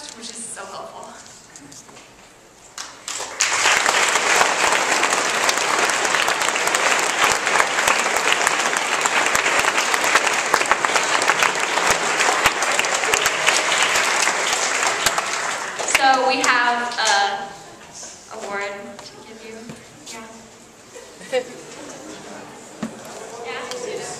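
A lecture audience at a talk on patriotism breaks into loud, sustained applause after a short lead-in, the clapping fading after about twelve seconds into a speaking voice.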